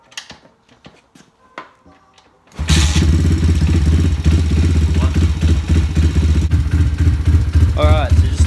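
A Thumpstar 140cc pit bike is kicked over a few times with faint clatter. It then fires up and settles into a steady, loud, close, lumpy single-cylinder idle with a low thumping beat.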